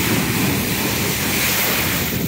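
Ocean waves breaking at sunrise, a loud continuous roar of surf with rushing wash and wind buffeting the microphone, steady throughout with no voices.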